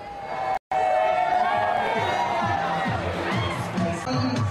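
A large crowd of young people shouts and cheers outdoors, voices overlapping in a loud continuous din, with a brief dropout near the start.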